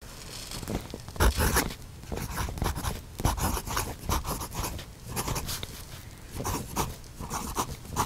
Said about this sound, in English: Let's put nib to paper.